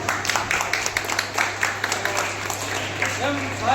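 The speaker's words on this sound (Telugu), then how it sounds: "అందరూ ఒకసారి క్లాప్" An audience at a public event in a Telangana sports ground applauds with steady, dense clapping throughout, voices mixed in and a low electrical hum underneath.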